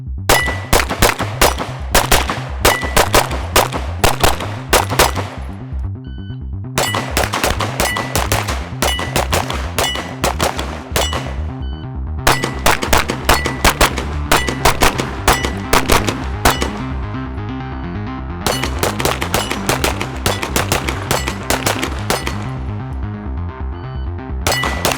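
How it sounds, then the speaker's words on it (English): Steel-frame and polymer-frame pistols fired at a downrange target, loud sharp shots in rapid strings of several rounds, with brief pauses between each burst. "we're going to shoot both guns and see how they perform"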